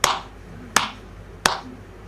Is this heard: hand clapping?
yes